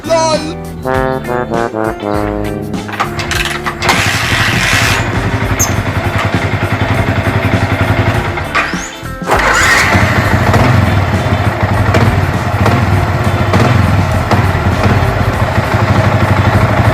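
A motorcycle engine sputters and stalls after a few rough cranking attempts, then catches and settles into a loud, steady close-up idle running on to the end.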